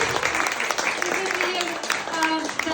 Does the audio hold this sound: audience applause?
yes